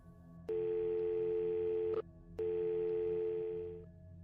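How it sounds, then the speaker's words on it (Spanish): A telephone ringing tone follows the dialing of a number: two long, steady electronic tones, each lasting about a second and a half and separated by a short gap, the second fading out at its end. "Marqué el número y la llamé."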